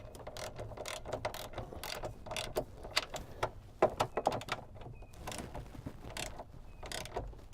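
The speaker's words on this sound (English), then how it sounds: "you can just start tightening these bolts fully." A ratchet tightening frame rail bolts on a 2018 Jeep JL Wrangler Unlimited during a Mopar frame rail install, quick repeated clicking bursts close by with brief pauses between strokes.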